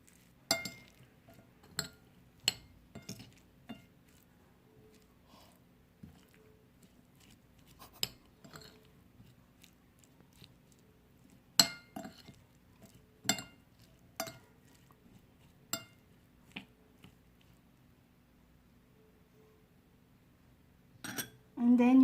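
Shrimp salad being tossed with spices in a bowl, giving sparse, irregular clinks and light scrapes of utensil against the dish, spaced by quiet gaps, with a louder burst at the very end.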